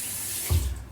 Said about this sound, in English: So I just put some soap and some water onto this and rinse it.